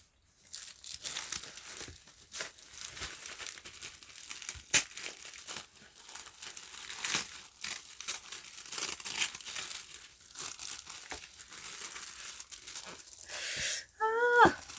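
Crisp tissue paper wrapping crinkles and rustles steadily as a Polene Numero Onze handbag is unwrapped from its signature tissue, close up and continuous, with a few sharper crackles and a louder burst near the end.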